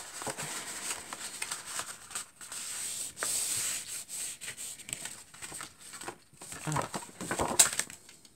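A paper card is folded by hand while a double-pocket card is made, giving soft rustling and rubbing scrapes in short bursts, close and fairly quiet with no talk.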